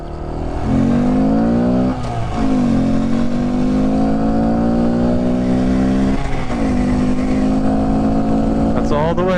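Honda Grom motorcycle carrying a passenger accelerating hard from slow to full throttle, its small engine revving up through several gears with rising pitch and brief drops at each shift, loud and close.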